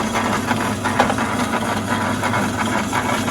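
A Logan 210 metal lathe runs on its old single-phase motor with a new drive pulley, giving a steady, close mechanical hum with faint rattling and a constant drone throughout.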